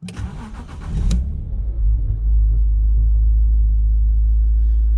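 A BMW Z4 E85 with a 2.2-litre engine cranks briefly with a rapid starter whir, catches, then settles into a steady, loud, close-up idle rumble with no talking.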